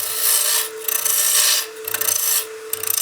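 A wooden baseball bat blank spins on a lathe while a tool trues it up, giving a steady broadband rasping scrape in long passes with brief lulls between, close and fairly loud with a constant motor hum underneath.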